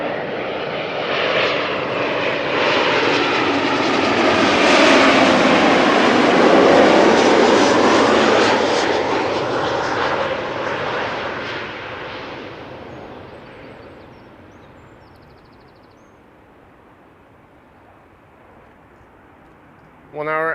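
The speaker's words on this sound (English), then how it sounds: "have a look at the landing of KLM Flight 1626 arriving from Milan" A KLM Embraer 190 jet landing at Schiphol Airport, its loud engine roar swelling as it passes close, then fading away into a faint distant rumble.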